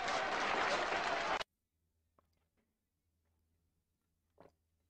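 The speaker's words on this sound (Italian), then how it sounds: "92 minuti di applausi" Game applause in Encodya: a dense burst of clapping opens loud and alone, then cuts off abruptly at about a second and a half, leaving near silence with a faint low hum and a couple of small clicks.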